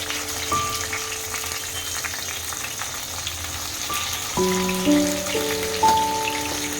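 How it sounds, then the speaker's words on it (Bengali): Cabbage and chicken rolls shallow-fry in a little oil in a karahi, giving a steady, moderate sizzle throughout, with faint tonal sounds in the background and no talking. "আস্তে আস্তে করে এবার এগুলোকে দিয়ে ভেজে নেব।"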